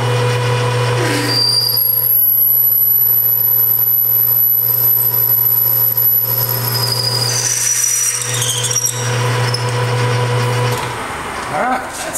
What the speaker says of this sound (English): Just a clearance drill for a 1/2 inch bolt.